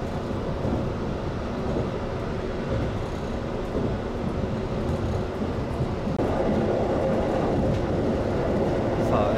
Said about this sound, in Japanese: この列車は通過いたします。